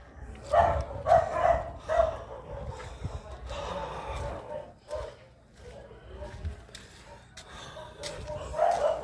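A dog barks and snorts in short bursts at close range by the seaside boulevard in Molo, mixed with panting and background noise, with a few louder yips near the start and end.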